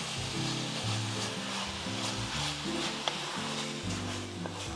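Spaghetti sauce with atsuete powder and soy sauce sautés in a pan, a soft, steady sizzle with light stirring and one brief clink, heard close and fairly quiet.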